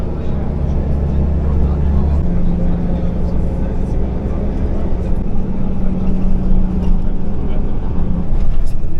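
A city bus drives from Abu Dhabi airport toward the main bus station, its steady low engine drone and road rumble filling the cabin at a constant loud level, with faint voices murmuring underneath.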